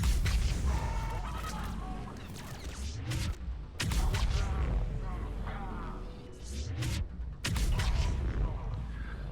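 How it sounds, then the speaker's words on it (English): A biotic explosion in the Mass Effect 3 video game: heavy, loud booming blasts with rumbling low end, sharp bursts near the start, around four seconds and around seven seconds, over continuous combat noise. "And now we get a biotic explosion."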